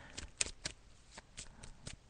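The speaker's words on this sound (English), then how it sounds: "So I'm just shuffling the cards now." Soft papery riffles of cards being shuffled, a handful of quick crisp bursts at uneven intervals, close and quiet, with no talking.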